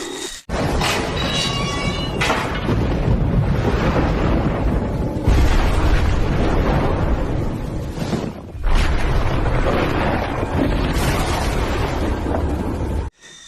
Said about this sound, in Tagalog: Dami putukan.